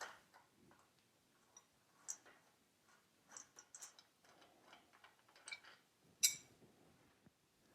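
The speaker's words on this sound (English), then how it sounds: "you can use a size 12 wrench to remove the headlight housing" A size 12 wrench turns the headlight housing bolts on a Royal Enfield Interceptor 650, giving quiet, irregular metallic ticks and clicks, some sharper than others, with a crisp snap near the end and no talking.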